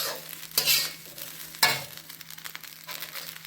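Hot egg rice being mixed by hand-held spoon in a pan, with two sharp scraping strokes over a soft, steady stir and faint sizzle, close and moderately loud, no talking.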